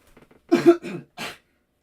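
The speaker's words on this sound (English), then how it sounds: "Excuse me, guys, I got a cough." A few faint throat rasps lead into a loud close cough and throat clearing, followed by two shorter coughs with pauses between.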